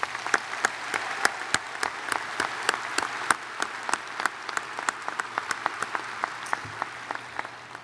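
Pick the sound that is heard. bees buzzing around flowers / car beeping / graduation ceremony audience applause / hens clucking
graduation ceremony audience applause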